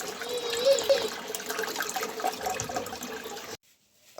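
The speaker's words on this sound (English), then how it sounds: "just keep filling up with water and it won't stop" Toilet cistern refilling with water after a flush, a steady rushing hiss of inflowing water that runs continuously at close range, then cuts off abruptly near the end before a faint restart.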